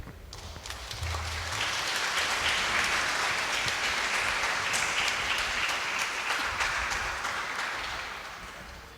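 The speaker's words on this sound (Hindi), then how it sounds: "ताली बजा देंगे।" A wedding crowd breaks into applause, the clapping swelling quickly into a sustained, dense burst that carries on for several seconds before gradually fading out.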